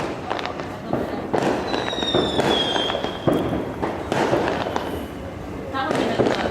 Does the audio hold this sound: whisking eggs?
no